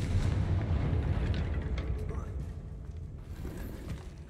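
Blasting-spell explosions in the wizarding game Hogwarts Legacy, a rumbling string of booms and crackling impacts that swell early and fade toward the end, with a voice calling out over the din.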